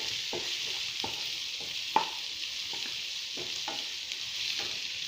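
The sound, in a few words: ginger and green chilies sautéing in a pan for momos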